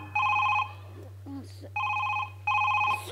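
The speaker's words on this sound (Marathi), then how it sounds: "तिचा फोन वाजतोय सर" A telephone rings with three bright electronic bursts separated by short gaps over a low steady hum, with a brief voice between the rings.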